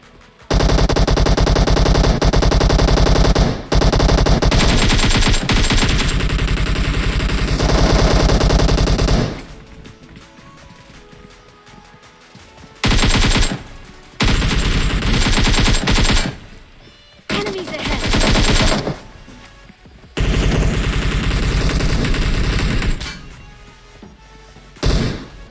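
Bursts of automatic gunfire in the mobile game PUBG Mobile rattle loudly in long volleys, broken by short quiet gaps before more rapid firing resumes.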